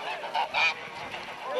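Geese at a goose fighting event in Serbia: a few nasal honks in quick succession, moderately close, over a faint background murmur.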